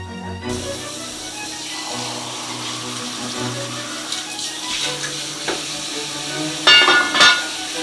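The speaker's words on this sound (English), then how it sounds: "We should add some more water here." Water pours into a simmering pot of boiling chicken soup over a steady background sizzle, with a brief louder splashing burst near the end.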